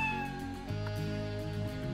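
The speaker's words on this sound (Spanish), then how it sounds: "Dice miau, pero se parece esto un perrito." A creature in the video game Xuan Yuan Sword 7 gives a drawn-out, close meow over a layer of game music.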